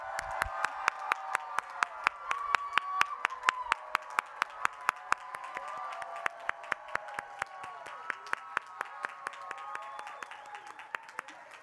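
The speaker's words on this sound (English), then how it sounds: "Let's give a round of applause to this incredible group." An audience at a dance school commencement ceremony applauds the graduates, a steady wash of many clapping hands with a few sharper, closer claps standing out, under faint cheering voices, tapering off at the end.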